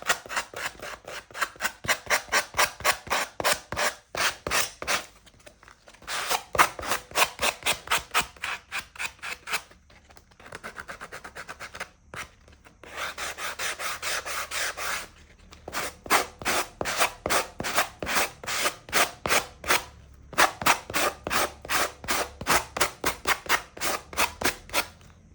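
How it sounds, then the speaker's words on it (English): A sanding block rubs against wood for an autumnal home decor piece, making steady rhythmic rasping strokes in quick bursts with a few short pauses, close and fairly loud. "doing it with the sanding block"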